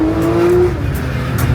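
A Porsche 992 GT3 RS engine roars steadily up close, a loud continuous car sound with a brief high whine early on and no talking.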